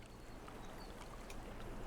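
Steady broadband rush of a small game waterfall spilling from a completed beaver dam in Timberborn, continuous and fairly close with no talk over it.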